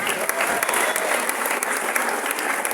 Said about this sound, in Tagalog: Ibigay niyo yung pinakamalakas na palakpak niyo doon sa mga kabataan na kita niyo kanina.